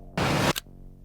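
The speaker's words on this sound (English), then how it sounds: "you can start adding in like a light switch sound effect" A light switch sound effect: one short, loud burst of hiss followed by a quick sharp click, heard alone and close with nothing else around it.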